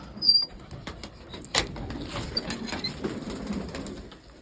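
Pigeons are let out of their coop, their wings flapping in quick soft bursts close by, with faint clattering of the coop and a few short bird calls.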